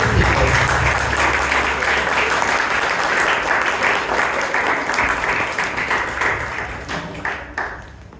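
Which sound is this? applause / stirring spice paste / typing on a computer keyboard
applause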